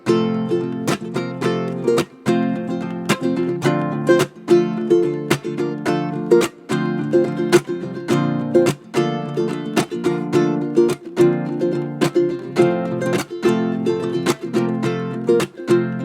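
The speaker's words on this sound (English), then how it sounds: "you can do similar things with this octave strung ukulele by having it" An octave strung ukulele doubles an existing part, with steady strummed chords repeating in a quick, even rhythm. The playing is close, fairly loud and bright, with no voice over it.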